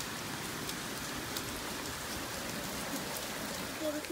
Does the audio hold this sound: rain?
yes